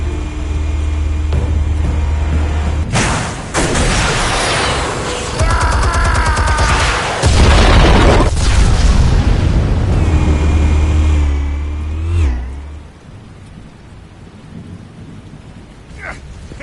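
Heavy detonations from armed explosives in Batman: The Telltale Series, a run of loud, rumbling booms and crackling blasts that roll on over several seconds before dying away to a quieter tail.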